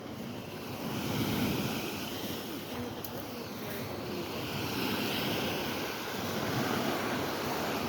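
Sea waves wash onto the beach at Tropea, a steady broadband surf rush with gusty wind buffeting the microphone, swelling and easing over about eight seconds.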